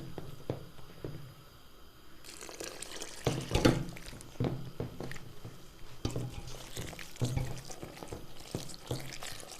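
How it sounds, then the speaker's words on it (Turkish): Water poured slowly into yeasted lokma dough for Turkish fried dough balls, with a soft liquid trickle and wet, squelching mixing sounds in a steady, close run. "Şimdi yavaş yavaş suyumuzu hamurumuza ilave ediyoruz."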